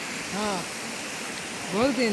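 A steady broadband rush of water from a waterfall continues through the clip, and someone talks over it twice in short bursts.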